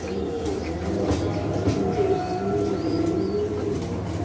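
A pair of fancy Dragon Homer pigeons coo in low, repeated throaty rolls up close, with steady background noise underneath.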